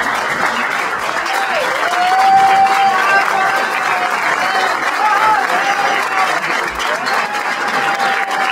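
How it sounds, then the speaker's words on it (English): An audience applauds an honored newspaper editor with loud, sustained clapping, some crowd voices and whoops mixed in throughout. "let's give a round of applause to the greatest newspaper editor in the history of the world."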